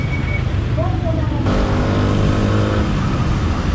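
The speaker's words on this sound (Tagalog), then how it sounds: "Sobrang smooth ng arangkada ng sniper." A 2020 Yamaha Sniper motorcycle accelerates smoothly on a road ride, its engine rising in steady revving tones, loud and near, with wind noise and someone talking over it.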